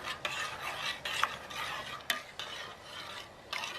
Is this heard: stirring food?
yes